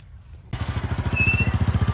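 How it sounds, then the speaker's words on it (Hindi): After a brief quiet moment, a motorcycle engine starts up loudly with a rapid, pulsing putter that continues steadily as it pulls away. "मोटरसाइकिल लेकर मैं भगाऊंगा"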